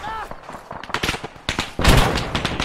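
Weapon fire in Arma 3, scattered sharp shots and short bursts mixed with voices talking, ending in a louder heavier blast of firing.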